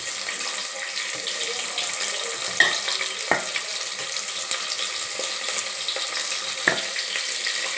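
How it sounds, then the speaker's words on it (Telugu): Onion, green chilli and whole spices such as cumin frying in hot oil, a continuous hissing sizzle with a few sharp clicks and knocks of a spoon against the pan. "ఆయిల్ కాగింది కాబట్టి తొందరగా వేగిద్ది ఫ్రెండ్స్"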